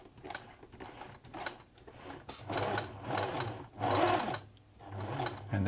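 A 1970s Singer Futura 1000 sewing machine runs a wide zigzag stitch in uneven bursts, its motor whirring and needle mechanism clattering rhythmically, nearby and fairly loud with short pauses between runs.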